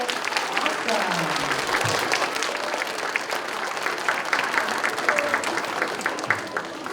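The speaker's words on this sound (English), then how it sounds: "can we give another round of applause?" An audience claps after a third-grade strings concert, dense sustained applause filling the room for the whole stretch, with a few voices mixed into the clapping.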